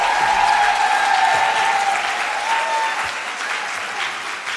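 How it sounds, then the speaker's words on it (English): Loud, continuous applause from a conference audience at a women's business event, a dense crowd of clapping hands with a faint sustained tone underneath, gradually easing slightly toward the end. "Clap her all the way to her seat."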